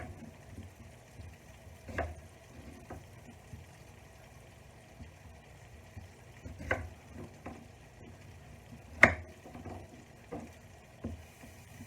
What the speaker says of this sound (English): I'm just going to chop these up.